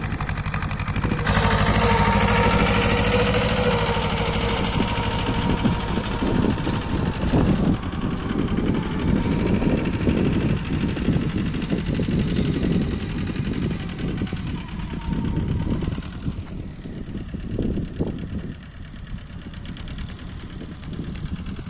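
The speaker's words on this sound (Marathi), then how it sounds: "आपल्या समोर आहे Mahindra Jio 245DI 4-wheel drive tractor" A Mahindra Jivo 245DI 4WD tractor, a 24 HP machine, runs steadily while pulling a cultivator, its engine giving a continuous near, loud drone with a rough, chugging rumble and no talking.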